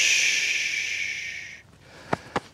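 A honeybee colony gives a loud, broad hiss after its hive is thumped, the rush sustained for about a second and a half before fading, followed by two short soft puffs.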